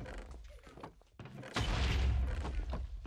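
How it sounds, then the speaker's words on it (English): Explosions in a multiplayer survival video game go off as a series of booms and thuds, with one louder, closer blast rumbling heavily after a short lull. "Those explosions are feeling mighty close."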